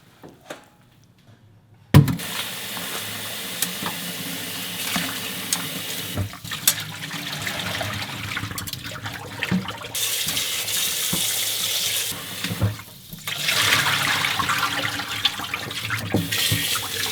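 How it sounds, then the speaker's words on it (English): Boiled pork bones being strained and washed at a kitchen sink under a running tap: a strong, steady gush of water starting abruptly after a short quiet moment, with occasional knocks and splashes, no talk. "Let's strain this and wash again."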